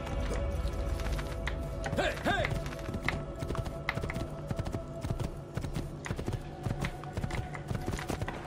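Horse hooves clip-clop in a quick steady rhythm in Assassin's Creed II, close and continuous, with a brief whinny-like sound early on.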